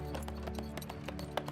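Hooves of a horse pulling a carriage clip-clop in a steady, even rhythm, fairly faint and heard over a continuous tonal background.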